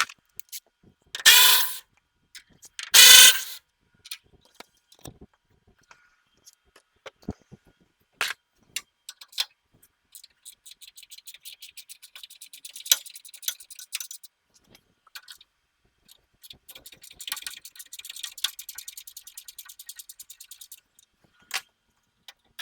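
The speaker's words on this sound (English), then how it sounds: "So I'm going to have to get a wrench in here and tighten this inside up" A ratchet wrench works on a part in the engine bay of a 7.3 diesel during an intercooler install, giving loud knocks at first, then long runs of quick, dry ratcheting clicks, close and crisp, with no talk.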